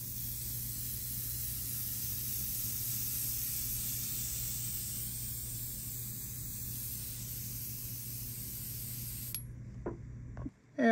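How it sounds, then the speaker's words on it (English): An airbrush sprays a light, ultra-matte mist coat held well back from a 1/16 scale WWII German Sd.Kfz. 251 Ausf D halftrack model, a steady continuous hiss that runs alone for about nine seconds before cutting off, followed by a few faint handling clicks. "I'm gonna keep the airbrush probably about 18 inches away from the model"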